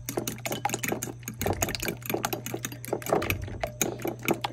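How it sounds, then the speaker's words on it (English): A fork stirs and whisks eggs seasoned with pepper and salt in a bowl, making a steady, busy run of quick clicking and tapping strokes close up over a low hum. "then I just stir it with a fork."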